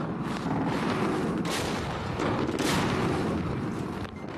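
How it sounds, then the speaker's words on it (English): Artillery fire engulfs a valley near a village being cleared of the Taliban, heard as a loud, continuous roaring rumble with a few heavier surges and no speech. "The sound of artillery fire engulfs the valley"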